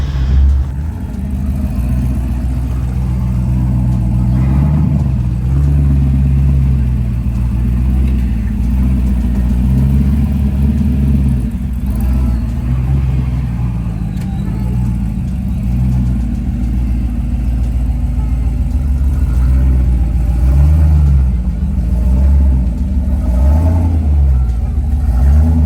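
A Jeep on aired-down tires crawls over a rocky Trail Hero obstacle, its engine a loud, steady low rumble that swells and eases with throttle throughout, close and continuous.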